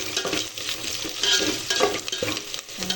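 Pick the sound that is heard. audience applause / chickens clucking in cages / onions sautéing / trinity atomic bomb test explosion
onions sautéing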